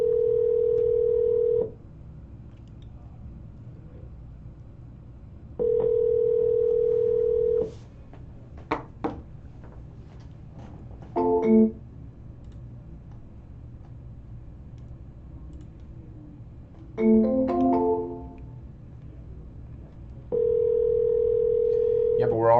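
A steady telephone dial tone sounds in repeated long stretches while a call is being placed, broken by short bursts of keypad or handset clicks between the tones.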